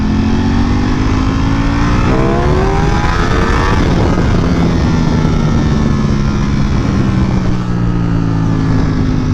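A Ducati Panigale V4S motorcycle engine revs hard while riding, a loud continuous roar with rising and falling pitch sweeps as the throttle opens and eases, steady and close throughout.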